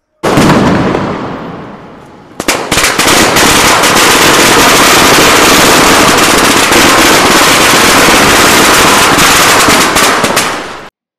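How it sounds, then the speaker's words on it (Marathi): Loud, continuous crackling of firecrackers bursting in rapid succession, close by, following a brief sputter and a pause, during Diwali Laxmi Puja and Padwa celebrations. "फटाके उडवायला चाललोय"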